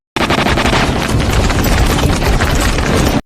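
Dense, continuous gunfire rattles for about three seconds, rapid overlapping shots and booms forming a loud, sustained barrage.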